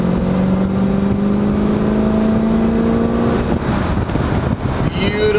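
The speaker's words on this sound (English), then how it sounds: "I'm going to go ahead and get into it just a little bit here, probably about half throttle, show you how it picks up and downshifts" A 1937 Chevy step side truck's engine pulls at about half throttle, a steady rising drone that drops in pitch as it downshifts, with wind noise throughout and a brief chirp near the end.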